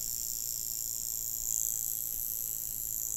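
A Vulcain Cricket mechanical alarm watch rings with a steady, high buzzing chirp that holds for several seconds, close and fairly loud, with no voices.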